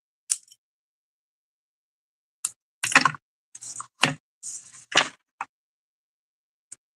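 Scissors snip through paper or ribbon during a pastel card-making craft session, several short close crisp cuts in quick bursts with pauses between, no talking.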